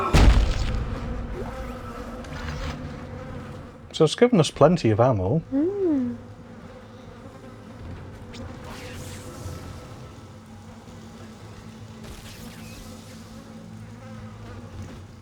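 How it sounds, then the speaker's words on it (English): Angry bees buzz in the Dead Space sci-fi horror game, a loud, wavering swarm drone that peaks briefly then settles into a lower hum, with someone talking over it. "God, those bees sound angry."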